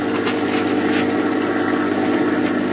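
Steady low engine drone, a radio drama effect of an approaching airplane, continuous and fairly loud without a clear rise or break, no talk over it.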